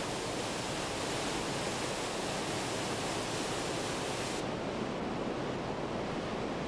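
A steady, dense roar of rushing water from the Krimml Waterfalls, 380 meters high, fills the whole clip without a break, loud and unchanging, heard nearby.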